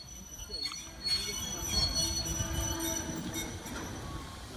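A 20 ton brake van rolls closer along a steam museum's railway, a steady low rumble of wheels on track with faint squeals and clatter, moderately loud and continuous throughout.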